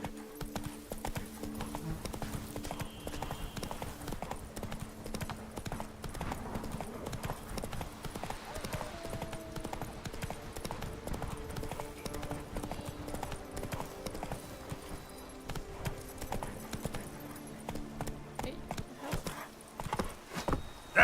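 Roach, the horse in The Witcher 3, gallops in steady rapid hoofbeats close by for the whole stretch, with a game score playing underneath and a brief whinny.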